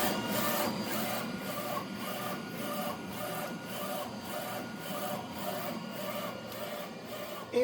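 A DTF printer with a drying unit runs steadily with a regular mechanical shuttling rhythm, a constant whirring hum underneath, moderately loud and without voices.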